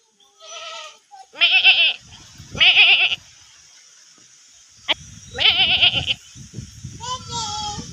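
Several loud goat bleats, wavering and nasal, come in separate bursts with short pauses between them, and a voice is heard briefly between calls.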